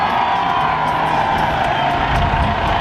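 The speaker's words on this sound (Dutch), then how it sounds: "mensen waren aan het juichen omdat ze voor, denk ik, het eerst in hun leven een politiehelikopter zagen" Crowd cheering and whooping at the sight of a police helicopter during the Noche de San Juan celebrations in Valencia, a steady, loud roar of many voices sustained throughout.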